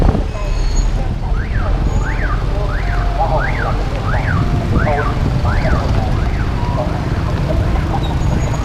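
Rapid, repeated warbling scooter horn tones rise and fall over dense traffic rumble in Vietnam, several short honks in a row, fairly near.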